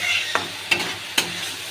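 Yogurt masala with ginger, garlic, coriander and green chili sautéing in oil for a tangra fish and potato curry: a steady close sizzle broken by three sharp spatula scrapes against the pan.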